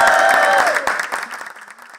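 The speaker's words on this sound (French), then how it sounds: "Des applaudissements pour leur champion" Local supporters applaud Benoît Hamon's primary election victory with a burst of crowd clapping and cheering that fades over about two seconds, a voice briefly present near the start.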